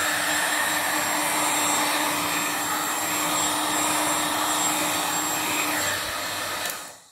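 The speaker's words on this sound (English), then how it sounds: "This is a torch. This is a heat gun" A heat gun blows over an acrylic paint pour with a steady, loud roaring hiss and faint whine, running continuously before cutting off at the end.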